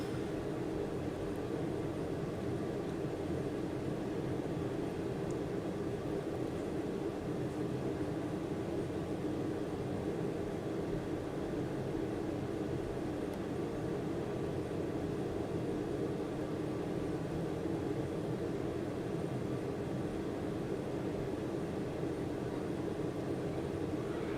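Airplane cruising over crop circles in Microsoft Flight Simulator, a steady unbroken drone of engine and wind noise filling the whole stretch, with no talking.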